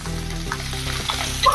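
Sliced potatoes, capsicum, tomato and green chilli fry in a pan for dhaba-style aloo do pyaza, giving a steady close sizzle with scraping stirs mixed through.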